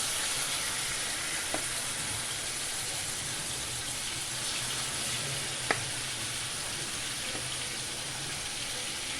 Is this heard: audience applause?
no